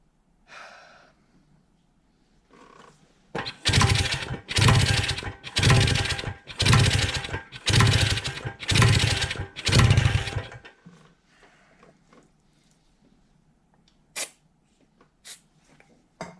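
A 1978 Kawasaki KD175 two-stroke motorcycle engine fires and revs in about seven loud, evenly spaced bursts, then drops to quiet with a few faint clicks; no speech.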